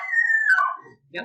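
A puppy gives a high, drawn-out whine that slides downward, then a brief second whimper, close and fairly loud on a patio, with a short spoken word between.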